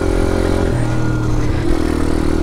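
A dirt bike engine runs steadily while being ridden on a motocross track, a loud, continuous mid-pitched drone with harmonic whine, shifting pitch once partway through as the rider changes throttle or gear.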